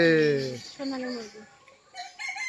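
Chickens at Malaysia National Zoo give a loud harmonic crow-like call, followed by softer clucks and brief calls, close and alone with no talk.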